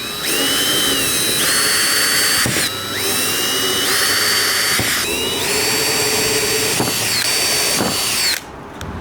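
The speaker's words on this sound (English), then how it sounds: "Now I'm going to take a Sharpie and mark all the holes I have to drill out." A power drill bores holes in a car trunk to fit an air suspension setup, loud and close, with several high whining bursts that rise and pause between holes.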